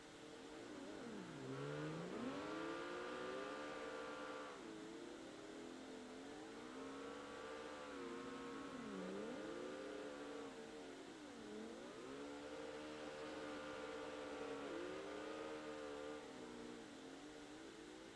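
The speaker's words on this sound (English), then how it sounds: "that's some nice drifting" Engines revving and tires squealing as cars drift in the CarX Drift Racing video game, repeated rising and falling pitch sweeps over several long slides, continuous and fairly loud with no talking.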